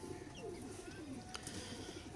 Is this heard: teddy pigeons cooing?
yes